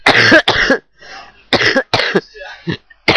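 A person coughs in a quick series of loud, rough, close bursts, some in pairs, with short gaps and faint breathy sounds between them.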